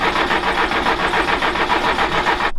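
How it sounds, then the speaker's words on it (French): A Renault 4L engine fitted with an added oil radiator runs at idle close by, a loud, evenly pulsing mechanical beat that cuts off abruptly just before the end. "On va encore faire tourner un petit peu le moteur"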